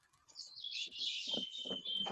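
Small bird chirping in quick, high tweets that recur through the moment, fairly close, with faint background noise and no talk.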